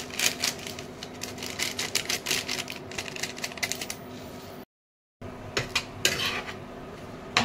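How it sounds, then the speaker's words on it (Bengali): Paneer and corn salad is stirred in a pan, a rapid run of clinking, scraping strokes of a utensil against metal, close and busy, broken by a short silence before the stirring resumes. "ভালো করে নাড়িয়ে নেব।"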